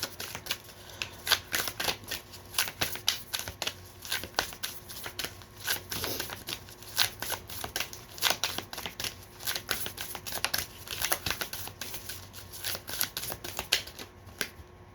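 Tarot cards are shuffled close up in a quiet room, giving a long run of crisp, rapid riffling clicks and flutters in uneven bursts, with no talking.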